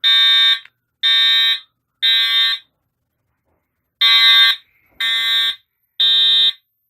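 A fire alarm system sounds a manual evacuation signal, loud electronic horn blasts in a regular on-off pattern: three short tones, a pause of about a second, then three more.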